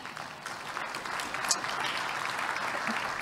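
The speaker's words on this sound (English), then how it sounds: "Let's give him a round of applause as he comes up." Applause from an audience at a food systems leadership event as a speaker walks up, a brief, moderately loud, continuous patter of many hands clapping without a pause.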